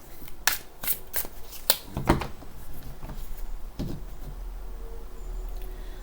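A deck of tarot cards is shuffled close by, with several crisp riffling flutters and taps early on, then near quiet.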